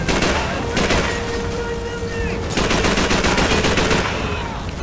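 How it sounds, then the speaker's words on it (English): Loud, dense gunfire in the Call of Duty 3 video game on the Falaise Road level, with rapid bursts and overlapping shots that roll on continuously with no break. "who's shooting at me?"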